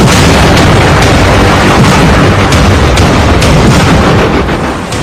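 Indian Army artillery fire from multi-barrel guns, mortars and rocket launchers booms in dense, overlapping blasts, loud and continuous with sharp repeated cracks riding over a heavy rumble throughout.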